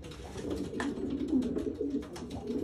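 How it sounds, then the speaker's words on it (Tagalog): Breeder racing pigeons coo steadily in a loft, a dense, continuous murmur of overlapping low throaty calls close by. "apo ng mga ace pigeon po ni Mr. Deonin."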